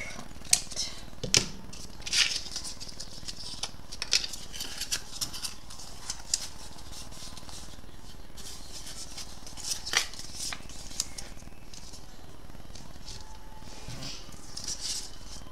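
Scissors snipping along a marked line on material for a shelving nook craft project: scattered short, crisp cuts in quick bursts, close and moderately quiet, with soft handling rustle between them.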